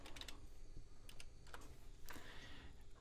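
Clicks and taps on a computer keyboard at a desk, a few quick irregular keystrokes followed by a firmer press, close and fairly quiet with no talking.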